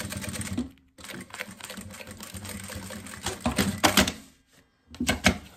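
A sewing machine stitches the lining of a small toiletry bag, backstitching at the start and end. It runs in short, close bursts of rapid needle chatter, broken by brief silent pauses.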